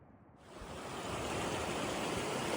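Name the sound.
Kern River flowing at a trail crossing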